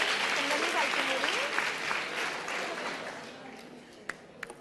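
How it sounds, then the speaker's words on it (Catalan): A studio audience on the Catalan word quiz Pica Lletres applauds a contestant, Lluís, with steady clapping that fades out, a voice talking briefly over it. "Fora aplaudiment pel Lluís"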